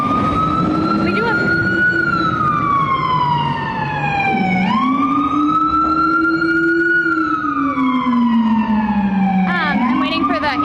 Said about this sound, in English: I'm waiting for the ambulance to go by.